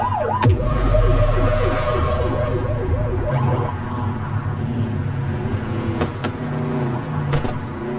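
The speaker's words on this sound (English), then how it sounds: "Get behind them and blip the siren to make them pull over." A police car in the video game The Precinct gives short siren blips, a rising and falling wail that cuts off over steady engine and road noise, followed by a few sharp clicks.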